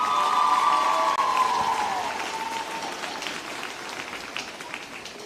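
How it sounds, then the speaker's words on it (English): A big crowd at a high school basketball game applauds and cheers for the homecoming court representatives. The clapping is loud and steady at first and slowly fades, with a bright tone sounding faintly over the start. "Let's give all of our homecoming court representatives a big round of applause."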